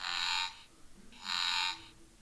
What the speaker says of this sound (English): My frog is saying ribbit, ribbit, ribbit.